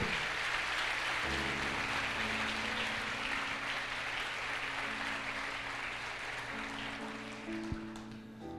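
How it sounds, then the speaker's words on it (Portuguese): Church congregation applauding the Lord during a Sunday evening service, a steady dense wash of clapping sustained for several seconds over a faint low organ or keyboard tone. "Você pode aplaudir o Senhor?"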